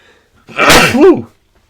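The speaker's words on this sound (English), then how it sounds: "that might be my first on-camera sneeze" A single loud, close sneeze with a sharp inhaled build-up and forceful burst, alone in a quiet setting.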